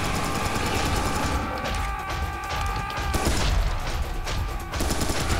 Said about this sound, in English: then there's fucking enemies shooting all around me